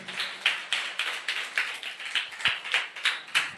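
A congregation claps loudly in a brisk, even rhythm, each sharp burst of hands ringing out in a regular beat with no talking.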